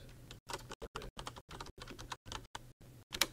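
Someone types a folder name on a computer keyboard, a quick series of soft, close keystrokes in short clusters with brief gaps, quiet and free of speech.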